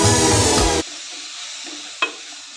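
Shevga masala ingredients mixed in a pan, a loud burst of stirring and sizzle that cuts off abruptly, followed by quiet background and one short clink near the end.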